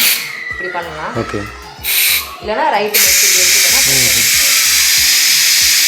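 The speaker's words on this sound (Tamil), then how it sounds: "இப்போ நம்ம உடனே ப்ரெஷர் ரிலீஸ் பண்ணிடலாம்" An electric pressure cooker venting its steam pressure, a loud steady hiss that starts abruptly and runs continuously after someone talks over brief earlier bursts.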